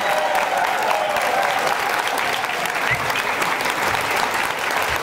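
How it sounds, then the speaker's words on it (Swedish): Sustained applause from an audience at a ceremony naming a reading ambassador, a thick, even roar of clapping hands lasting the whole stretch with a faint murmur of voices beneath. "Du ska få, förutom säkert applåder"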